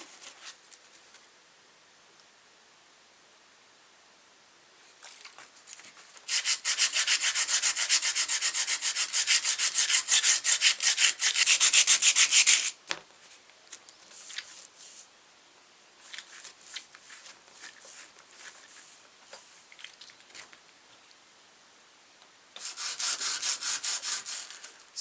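Rust is rubbed off a 1930s gin spring trap in close, gritty abrasive bursts, with a long vigorous stretch of scrubbing, then short intermittent rubs and a final burst, separated by quiet pauses.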